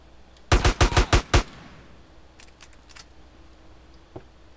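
AK-47 gunfire in GTA San Andreas: a rapid burst of about six loud, close shots in quick succession, followed by fainter distant pops and a quiet pause.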